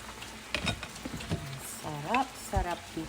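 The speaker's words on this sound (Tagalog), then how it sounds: "Lagyan natin yung patis. At yung hipon." Fish sauce and shrimp hit a hot pan while cooking ginataang gulay, giving a sizzling fry with stirring scrapes and a voice speaking briefly over the cooking.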